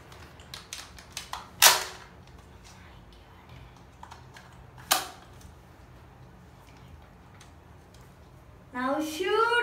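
A toy Ionfire gun fires at a scoring target board, giving two sharp snapping shots among light clicks and handling taps, followed at the end by a brief voice.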